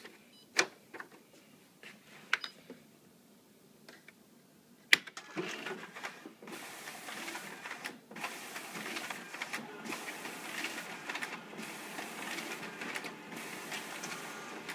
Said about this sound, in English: we're going to run them through the document feeder to make sure that works properly